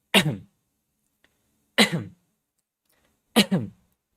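Three short throat clearings, evenly spaced with silent pauses between them, close and clear with no talking.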